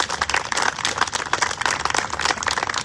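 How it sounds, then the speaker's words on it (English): Outdoor crowd applauding at the unveiling of a Lincoln topiary monument in Macomb, a steady patter of many hands clapping for a few seconds, moderately loud, with no voices over it. "Let's give Duke another round of applause."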